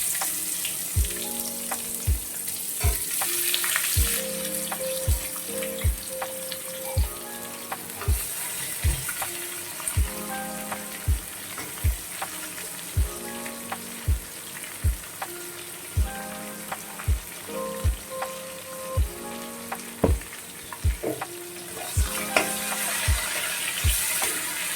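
Chopped onions frying in a pan of hot oil for a Bengali prawn and pointed gourd curry, a steady close sizzle under a regular pattern of sharp ticks and clinks, with no talking.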